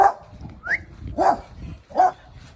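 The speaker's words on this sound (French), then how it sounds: "Et on a des chiens qui aboient comme d'habitude." Several dogs bark outdoors in short separate bursts, about three or four loud barks with a whimpering yip between them, against faint background noise.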